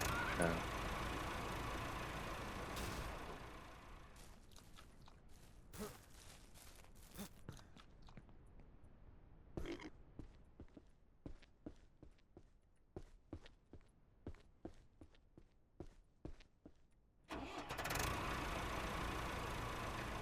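A car engine in the video game Ranch Simulator, hauling adult pigs on its back end, hums steadily at first, then gives way to a run of short repeated clunks and thumps before the engine noise swells again.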